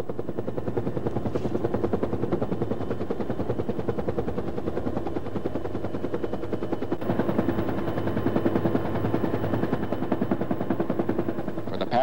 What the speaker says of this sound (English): U.S. helicopters ferried South Vietnamese soldiers into Cambodia